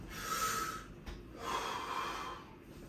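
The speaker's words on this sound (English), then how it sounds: "The reason why we take these breaths" Two deep breaths taken close and alone, each a long airy inhale or exhale rising and fading, separated by a brief pause.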